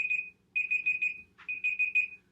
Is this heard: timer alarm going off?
yes